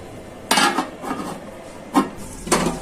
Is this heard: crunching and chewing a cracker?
no